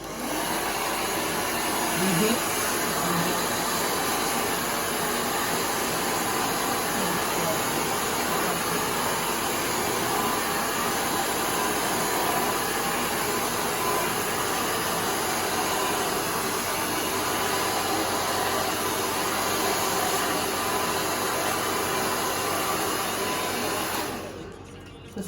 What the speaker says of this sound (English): I'll go in with my blow dryer,